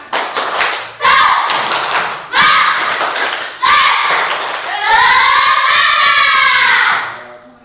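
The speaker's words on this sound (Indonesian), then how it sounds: "tepuk semangat" A school class performs a rhythmic spirit clap, loud bursts of hand claps in repeated patterns, with children chanting and shouting together between and over the claps, ending in a sustained group cheer.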